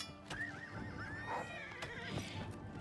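A horse in the video game Oblivion Remastered neighs and whinnies in a few wavering calls over about three seconds, with hoof clip-clops mixed in, fairly close and alone without speech.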